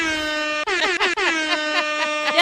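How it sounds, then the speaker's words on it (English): Repeated blasts of an air horn effect, a long honk followed by rapid stuttering bursts, loud and alone. "That deserves a hip hop air horn, Seth."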